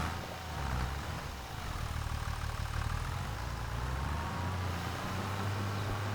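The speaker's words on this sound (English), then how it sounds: "Park the tractor over here in the shed." Tractor engine in Farming Simulator 25 idling and running at a steady low rumble, close and continuous with a slight shift in pitch partway through, no talking.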